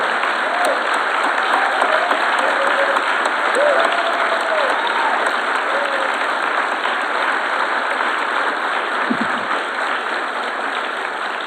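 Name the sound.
audience applauding the mayoral forum panel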